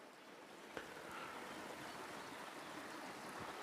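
A small meandering river in the Cairngorms National Park flows with a soft, steady hiss, quiet and continuous with a faint knock at one point, and no voices.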